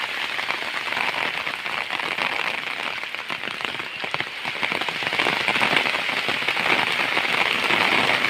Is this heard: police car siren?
no